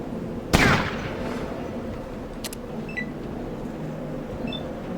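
A grenade goes off in the tactical game Fallout Tactics, one sharp, loud blast that decays into a rumbling tail, with faint clinks after it over a low steady background.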